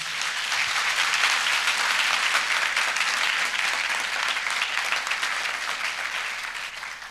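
A church audience applauds for the Lord with sustained, dense clapping that holds steady for several seconds, fading slightly at the end.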